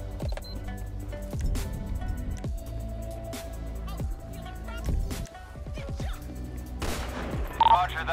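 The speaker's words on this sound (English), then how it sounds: "Shots fired, shots fired." Rapid gunfire bursts in GTA V during a police LSPDFR shootout with an armed suspect, sharp repeated cracks in quick clusters over game music and ambience, with someone talking throughout.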